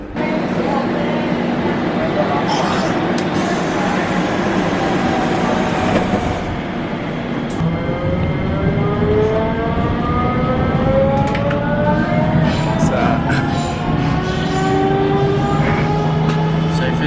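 A metro train in a station in Sofia, Bulgaria: a loud, steady rumble and whine of the train that fills the whole stretch, with rising electric motor tones as it pulls away and a brief burst of voices partway through.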